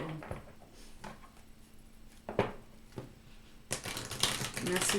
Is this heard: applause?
no